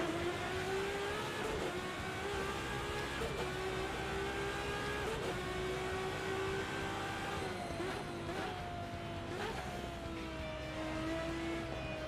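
A race car engine in a sim racing game revs hard while pulling out of the pits, rising through several gears with clear pitch climbs and drops at each shift, steady and close.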